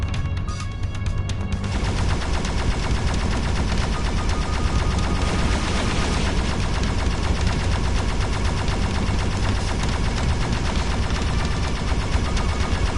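An enemy spaceship in End Space, played in virtual reality, unleashes sustained rapid gunfire, a dense, loud, unbroken rattle of shots that fills the whole stretch.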